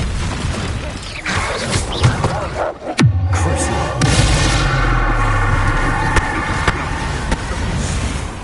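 Confringo fire spell blasts in Hogwarts Legacy on PS5: a sharp, loud explosive crack, then a rumbling burst, with more booms and crackling over steady battle noise and some voice.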